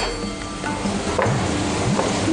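Wild gooseberries (amla) and tomato sautéing in a pan, giving a steady low sizzle with soft scraping stirs throughout.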